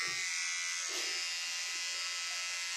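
A Sweet sensitive precision beauty styler hair removal machine gives off a thin, steady electric buzz, quiet and continuous, with a faint voice briefly in the background.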